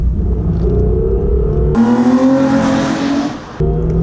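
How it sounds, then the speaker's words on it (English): Toyota Camry V6 automatic with the throttle floored just under 40: the engine drones steadily, then jumps to a louder, higher roar as it shifts down, with the revs climbing before it drops back. No one talks. "Let's just say I'm just going underneath 40 and I floor it."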